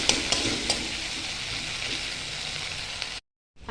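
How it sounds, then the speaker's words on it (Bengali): Ginger and chili paste with tomato paste and spices fry in a pan for an Bengali vegetarian potato-papaya dish, a steady close sizzle with light stirring scrapes throughout, cutting off abruptly near the end. "ফোড়নটা ভাজা হয়ে গেছে, আর এর মধ্যে আমি এখন দিয়ে দিচ্ছি আদা আর লঙ্কা পেস্ট। এরপর আমি দিয়ে দিচ্ছি টমেটো পেস্ট। ভালো করে সব উপকরণকে ভেজে নেব।"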